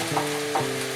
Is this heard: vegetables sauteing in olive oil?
yes